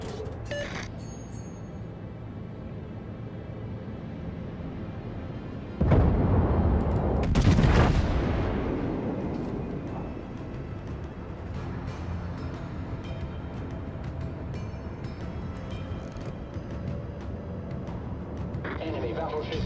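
Warship guns in World of Warships fire with a sudden heavy boom partway through that fades slowly into a rumble over steady background noise, with a voice talking at times.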